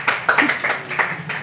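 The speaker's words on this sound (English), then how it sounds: "Round of applause" Audience applause at a live talk show in Bali, a brisk burst of clapping from a small crowd, fairly close, with a faint voice underneath.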